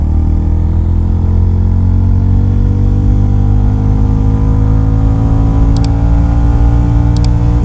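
A Royal Enfield Goan Classic 350 single-cylinder motorcycle revs up through first gear, its loud, close thumping engine note climbing steadily in pitch with no talk over it.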